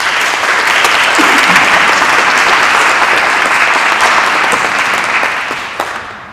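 An audience applauds to welcome the guest lecturer at a distinguished lecture, a dense, steady burst of clapping that holds loud for about five seconds before tapering off.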